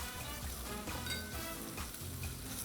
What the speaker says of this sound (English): we've got some minced garlic, minced ginger, and our dry red chilies. So we put it all down